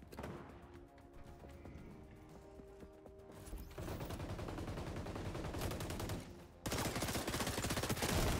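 Gunfire bursts in the shooter game XDefiant, dense rapid automatic fire that runs continuously and grows louder toward the end, with no talk.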